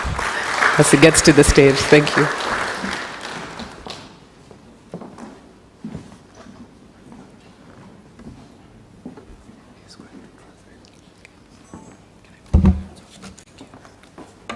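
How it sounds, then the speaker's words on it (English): An audience at an African Liberation Day event in Rwanda claps briefly, fading out after a few seconds, followed by quiet murmured speech and a short thump. "Let's give him a round of applause"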